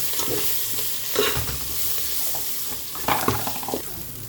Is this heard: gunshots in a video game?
no